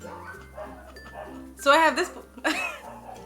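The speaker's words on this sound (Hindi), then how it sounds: "कुत्ते क्यों भौंक रहे हैं" A dog barks in a few sharp bursts close by, over someone talking.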